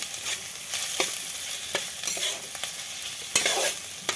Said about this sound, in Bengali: সব উপকরণগুলো ভালো করে আমি মিশিয়ে নেব